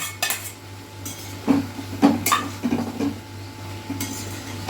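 A utensil stirs prawns in a metal pan for a Bengali pumpkin-and-prawn curry, giving repeated close clinks and scrapes against the pan over a soft, steady background hum.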